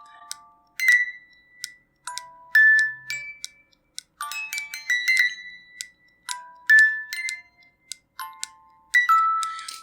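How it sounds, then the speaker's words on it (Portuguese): A small wind-up music box plinks out a tune, with bright high, bell-like notes in short phrases and little pauses between them, close and clear, while a voice briefly asks a question. "Eu tenho aqui uma caixinha de som. Aquelas caixinhas de música"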